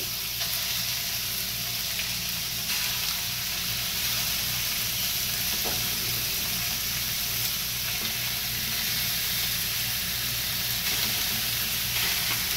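Chicken fries in a small amount of oil in a pan, giving a steady, dense sizzle that holds unbroken and fairly close throughout, with no talking.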